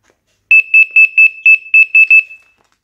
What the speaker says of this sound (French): Je vais abaisser le volume du détecteur pour que vous voyez le son de la centrale.